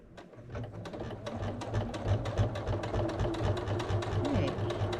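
A sewing machine stitches close to the edge of fabric with a fast, even mechanical rattle of needle strokes that runs continuously and stays close.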